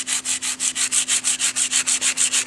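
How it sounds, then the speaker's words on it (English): Sandpaper scrubbing plastic in quick regular back-and-forth strokes, about six per second, close and crisp, with a faint steady hum beneath and no voices. "Now we have our plastic. We can take the sandpaper"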